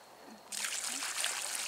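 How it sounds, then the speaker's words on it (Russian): Water draining quickly into a hole in the ground, starting as a faint trickle and swelling into a brighter, steady gurgling rush midway, heard up close outdoors. "Вода быстро уходит."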